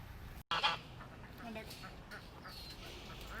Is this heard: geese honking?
yes